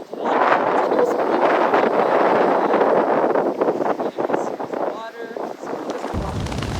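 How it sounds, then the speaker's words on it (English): Strong wind by the water at Fort Worden, Port Townsend, buffets the microphone in a loud, continuous rumbling roar with gusty surges and a few faint sounds underneath. "Wow, it's just crazy windy out here."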